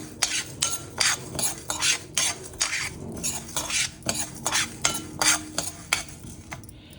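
Chana dal and toor dal dry-roasting in a pan for vathakuzhambu powder, stirred with a spoon in a steady run of dry scraping, rattling strokes, close and moderately loud, with no talking.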